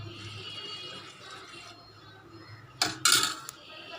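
Pearl millet dosa batter is stirred in a metal vessel, first a soft steady swishing, then a few sharp scraping clatters of a utensil against the vessel's side, close by and with no talking.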